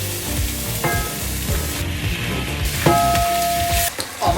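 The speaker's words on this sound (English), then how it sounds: "Have the veggies in the oil for just a little bit to keep the vitamins and everything in there" Vegetables frying in hot oil give a steady, loud sizzle all through, with a few brief tonal squeaks and scrapes from a pan and utensil over the constant crackle.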